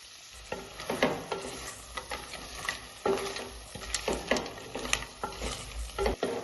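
Curry leaves fry in a pan of Kerala-style crab curry, a low steady sizzle broken by irregular scraping and stirring knocks of a spoon against the pan, close and moderately loud.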